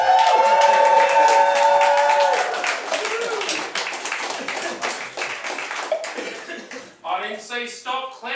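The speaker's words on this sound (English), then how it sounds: "I didn't say stop clapping." An audience at a comedy Dungeons and Dragons show claps and cheers loudly, a dense burst of applause that gradually thins into scattered claps and laughter.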